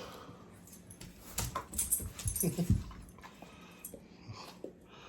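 Close dogs whimper and pant softly, with small high whines, shuffling and sniffing over a quiet background.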